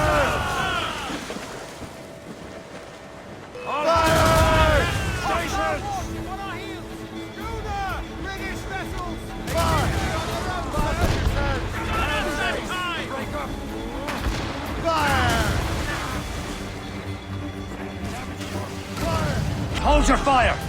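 Heavy naval cannon fire from a sailing warship in Assassin's Creed Rogue, a loud boom opening a run of repeated blasts and rumbling impacts, mixed with orchestral score and shouting crew voices.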